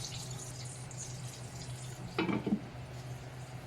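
Water is poured into a pot of sautéed chicken for creamy chicken pastel, a short splashing burst rising over a steady low kitchen hum.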